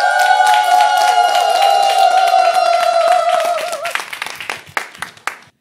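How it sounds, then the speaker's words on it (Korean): An audience at a senior singing class claps to welcome a singer, with loud steady applause mixed with a sustained tonal instrument, then thinning to a few scattered claps at the end. "박수 주세요."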